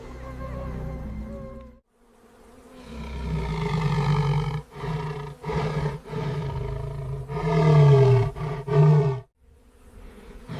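A male lion roars a deep warning at a hyena clan on the savanna, a series of heavy, rumbling roars and grunts broken by short pauses, loud and close.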